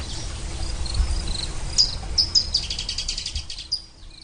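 Grasshopper sparrows and other birds chirp and trill in high, scattered bursts in wetland grassland over a steady outdoor hum, with insects buzzing faintly in the background.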